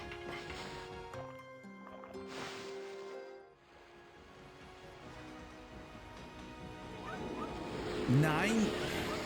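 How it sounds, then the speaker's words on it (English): Several dogs bark and yip in the video game Okami HD, with game music underneath; the barks grow louder and busier toward the end, with a voice heard over them. "Heard a dog barking."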